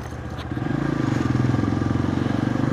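A motorcycle engine idles, then the throttle opens into a steady, loud, close pulsing rev that holds to the end.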